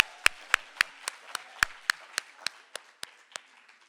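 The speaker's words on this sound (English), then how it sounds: "please another warm round of applause for Busi." Scattered handclaps from a small audience at the 23rd Poetry Africa festival reading, about a dozen sharp separate claps that slow and fade over a few seconds.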